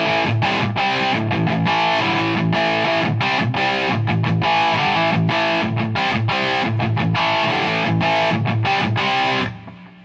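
Electric guitar played through a Marshall Mode Four MF350 amp with the cabinet not cranked, heard as loud, continuous distorted strumming and riffing with rhythmic chops, running steadily before cutting off at the end.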